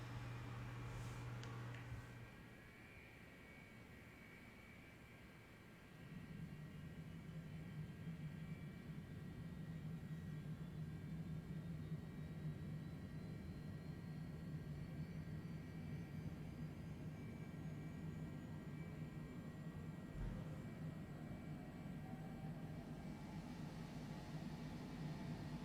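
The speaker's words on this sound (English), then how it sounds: "And now let's watch the engine start." The right-hand number 2 engine of an airliner starts up in Microsoft Flight Simulator: a low, steady rumble with a thin whine that slowly rises in pitch as the engine spools up, continuous and unhurried with no talking.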